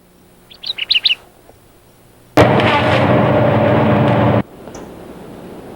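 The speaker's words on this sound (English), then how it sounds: "This is a Kirtland's Warbler, a highly endangered songbird." A Kirtland's Warbler gives a quick burst of bright chirping notes, followed by a loud, rushing broadband noise that cuts off abruptly.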